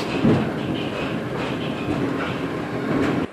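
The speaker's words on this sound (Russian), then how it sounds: "Колеса стучат по рельсам" Train wheels clattering steadily on rails, a loud, continuous rumble with rhythmic clacks heard from close by inside the car.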